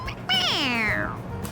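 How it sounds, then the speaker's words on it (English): A stuffed toy cat from the game Persona 5 Royal gives one clear, drawn-out meow when its head is pressed, starting high and falling in pitch, close and fairly loud over faint background. "It meows when you press on its head."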